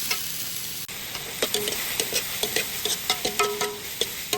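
Plenty of onions frying in a hot pan, with a steady loud sizzle and repeated stirring scrapes and taps throughout, no talking.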